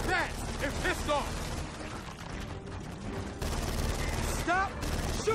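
Rapid bursts of gunfire from the Gears of War 4 Horde-style Fort Swarm mode crackle continuously through a dense, busy battle, with players talking over the shooting throughout.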